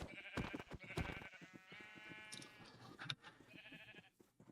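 Sheep bleat in a modded Minecraft playthrough: several short, nasal bleats follow one another close by, with a longer wavering call in the middle, all fairly faint.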